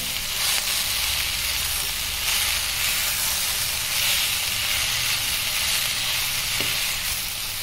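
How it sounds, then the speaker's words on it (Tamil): Onions and tomatoes fry in a pan with ginger and garlic for a paneer butter masala, giving a loud, steady sizzle and hiss with no talk. "வெங்காயம் தக்காளி நல்லா வதங்கிட்டு இருக்கு"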